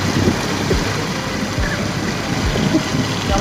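A motorbike engine rumbles steadily nearby, a low continuous drone with faint rising whooshes over it.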